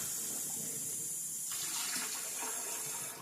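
Hot water runs steadily from a kitchen sink tap, a continuous hiss and splash that gets louder and brighter halfway through as the flow increases, with no talking.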